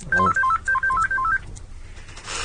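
Mobile phone voicemail notification during a radio show: a quick run of bright electronic beeping tones, loud and close, then fading into low background noise.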